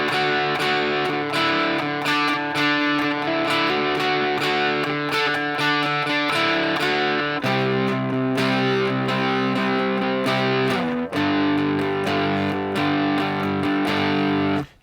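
A distorted electric guitar plays a riff, with loud, sustained chords and picked notes moving through repeated changes over about fifteen seconds, alone without any voices.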